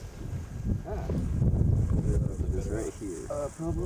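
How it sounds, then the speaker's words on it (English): Outdoor wind on a hike at Table Rock, a steady loud rumble of wind against the microphone running throughout, with people talking over it. "wind."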